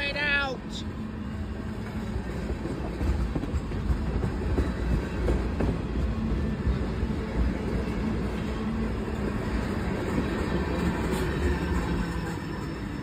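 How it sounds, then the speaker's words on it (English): A CSX westbound local freight train out of Grafton Yard, West Virginia, rumbles past close by for the whole stretch, with a steady roar and rail clatter after a brief high squeal at the start. "Westbound local freight train that originates from the Grafton, West Virginia, Grafton Yard"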